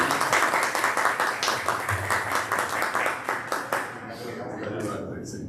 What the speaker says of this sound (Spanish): ¿Pueden aplaudir? Como si fuéramos muchos.